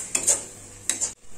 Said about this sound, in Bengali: আর একটু জল দিয়ে এবার এই মশলাটাকে 2 থেকে 3 মিনিট ধরে কষিয়ে নিচ্ছি।